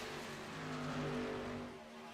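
A race truck engine in a sim racing truck series hums in a steady, low drone as it loses fuel and rolls toward pit road, heard alone without talk.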